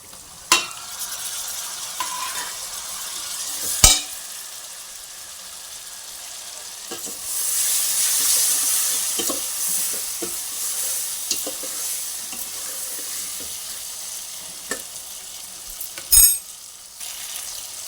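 Four cut tomatoes fry in a pan of hot oil with a soft, continuous sizzle, while a spoon stirs them with occasional sharp clinks and scrapes against the pan, close and fairly quiet.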